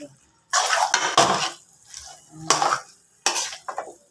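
Biko, a sticky rice cake sweetened with brown sugar, being stirred in a pan, with scraping bursts of the spoon against the pan repeating four or five times at close range.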